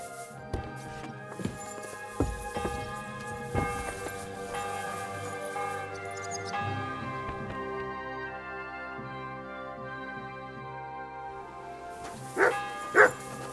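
In the medieval game Kingdom Come: Deliverance 2, a dog gives a few scattered barks over a quiet sustained musical backdrop with bell-like tones, with a louder yelp near the end.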